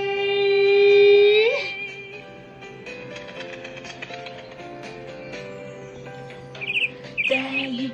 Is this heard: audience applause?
no